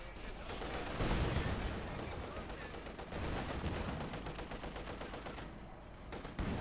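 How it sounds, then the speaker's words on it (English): A KV1 tank's hull machine gun fires in a strategy video game, with long, fairly quiet bursts of rapid shots that carry beneath a commentator talking over the battle. "KV1's hull gunner doing some work there against the Austrian"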